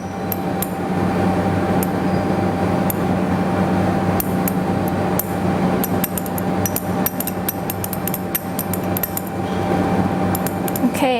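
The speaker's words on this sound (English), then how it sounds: "Just keep stirring." A solid being stirred to dissolve it into a light blue solution in a laboratory, with a steady hum under rapid, repeated glassy clinks of a stirring rod against the vessel.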